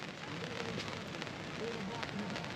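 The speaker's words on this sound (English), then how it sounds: "It is now raining." Steady rain falls at a lakeside state park campsite in Oklahoma, a dense, even hiss that holds at a constant moderate level with no pauses and no talking.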